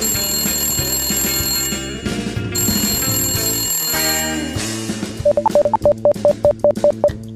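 A cartoon telephone rings indoors: a fast, repeated electronic trill toward the end of the clip. Bouncy music plays throughout, and the ringing pulses come in a steady series over it.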